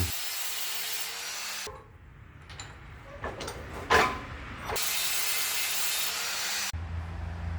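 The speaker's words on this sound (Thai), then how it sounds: "เดี๋ยวเราก็จะมาเจียตรงรอยเชื่อมครับ เพื่อจะแยกเหล็ก 2 ชิ้นนี้ออกจากกัน" Angle grinder cutting through a weld to separate two steel pieces, a motorbike frame mount nearby; loud steady grinding roar starts and stops in bursts with quieter scraping and clanks between.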